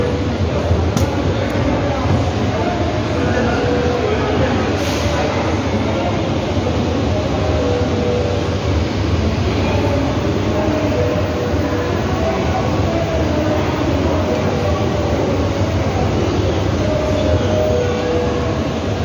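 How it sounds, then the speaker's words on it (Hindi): Steady, loud rumble of a train ride in Japan, continuous low roar with faint rail noise throughout, no talk. "मैं अभी आपको लेके जाता हूँ ट्रेन की तरफ, ट्रेन का सफ़र करते हैं"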